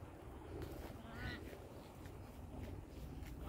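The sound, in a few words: duck calling near a lake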